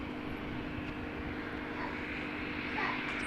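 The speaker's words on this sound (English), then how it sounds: "Oh, another ATR not too far away." An ATR turboprop airliner passes not far from Christchurch Airport in foggy conditions. It gives a steady, droning propeller hum with a constant tonal whine that holds evenly throughout at moderate level, with faint background noise.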